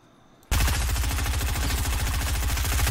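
Sustained automatic gunfire in Fortnite erupts abruptly after a brief quiet moment, then keeps going as a rapid, loud, unbroken burst of shots to the end.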